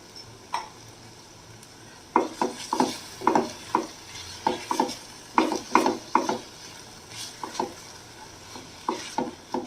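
Butter garlic mushrooms frying in a pan with chili powder and salt, a quiet sizzle under a series of rhythmic scraping stirring strokes from a spatula, no voices.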